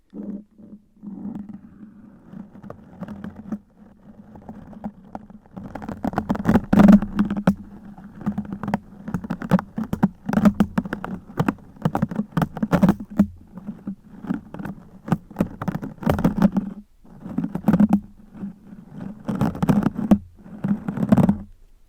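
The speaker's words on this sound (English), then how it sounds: "What would it sound like if we moved them across the mic?" Close, rumbling stiff bush broom bristle strokes dragged across a microphone, irregular scraping bursts with heavy low thumps, growing busier and louder after a quieter start.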